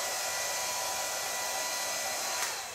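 A hair dryer blows on hair during a cut-and-colour session at a salon, a continuous even hiss of air at moderate level, easing off slightly at the end.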